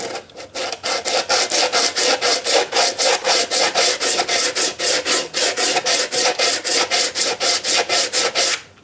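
Steady, rhythmic back-and-forth sanding with coarse 36-grit paper, loud and close, about three rasping strokes per second throughout.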